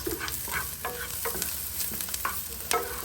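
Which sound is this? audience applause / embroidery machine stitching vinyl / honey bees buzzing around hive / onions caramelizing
onions caramelizing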